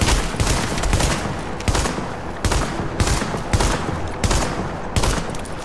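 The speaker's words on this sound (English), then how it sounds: "Oh god, this is not a very accurate gun, is it?" Rapid, loud gunfire from an inaccurate gun in a video game, with dense overlapping shots and regular bursts of bangs that carry through the whole stretch.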